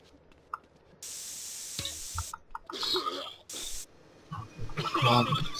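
Hissing bursts of a spray paint can in GTA San Andreas, two loud sprays of about a second each, with scattered game sounds and noise around them.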